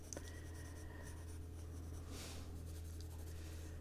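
Colored pencil scratches softly on paper while an adult coloring page with a turtle design is filled in, a faint, steady scraping with occasional light taps.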